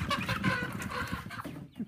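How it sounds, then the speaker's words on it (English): Chickens clucking close by in a cage during a move to a new coop, a busy overlapping run of short clucks and squawks over a brief stretch. "I'm putting the chickens in a box over there."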